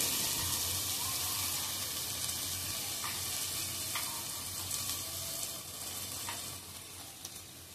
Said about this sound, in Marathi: कांदे ढवळून घेऊया.